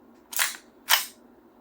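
KJ Works CZ Shadow 2 airsoft pistol firing during an FPS test with .20 BBs: two sharp, close snaps about half a second apart, each with a quick hissing tail, in a quiet room.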